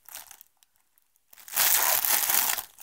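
A plastic bag holding yarn from a parcel crinkles close up, first a short rustle and then, after a near-silent pause, a longer loud stretch of crumpling.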